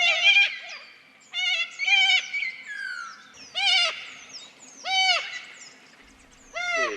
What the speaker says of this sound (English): the other species of corella that we get here, just moving on, is the long-billed corella